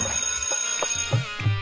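A telephone rings in a repeated electronic pattern, each burst loud and near, with no talk over it.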